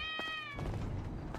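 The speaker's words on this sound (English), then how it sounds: "Ooh, a cat. Hello, cat." A single short cat meow in GTA V sounds clear and close over steady background game noise.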